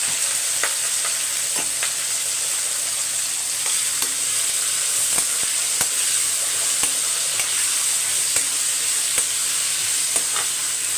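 Plantain slices and curry leaves sauté in hot oil for a festive Karthigai Deepam dish, giving a steady close sizzle with scattered spatula clicks and scrapes throughout, no voices.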